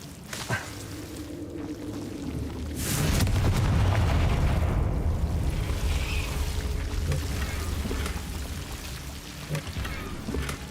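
A Confringo blasting spell going off in a Harry Potter video game, a deep rumbling explosion that swells and rolls on for several seconds under the game's ambience.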